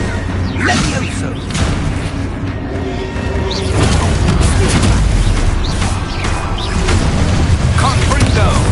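Repeated booming blasts from the Expulso blasting spell in Hogwarts Legacy on PS5, loud and continuous, layered with whooshes and crashing debris amid busy game combat sounds.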